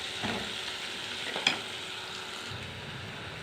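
Chopped onions fry with crushed ginger and garlic in oil, making a steady close sizzle broken by a couple of light stirring scrapes, with no voices.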